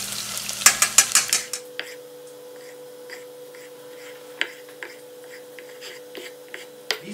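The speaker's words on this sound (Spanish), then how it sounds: "y voy a echar estas cebollas y las voy a freír un poco" Onions and puya chiles drop into hot oil with a burst of crackling sizzle and clatter, then settle into a steady faint frying hiss broken by occasional utensil taps.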